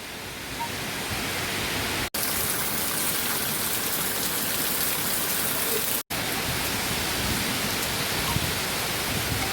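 Heavy hurricane rain pours down outdoors in a steady, loud broadband hiss that fills the whole stretch, broken by two brief dropouts, with no talk over it.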